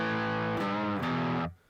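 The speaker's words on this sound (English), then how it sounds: "The use of a distortion pedal allows a lot more tonal possibilities" An electric guitar runs through a distortion pedal, playing a few sustained, buzzy chords that change twice before cutting off abruptly near the end.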